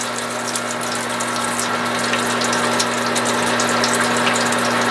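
A pump sprays liquid during beer brewing, its steady motor hum under a constant hissing, splashing rush that carries on without pause, loud and close with no talk.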